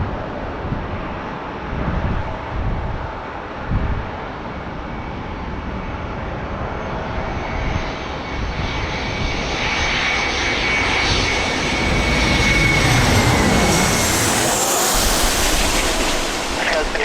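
An airliner on landing approach to runway 27 at San Diego roars loudly and steadily, the jet noise swelling toward the end, with wind buffeting the microphone and a faint voice underneath.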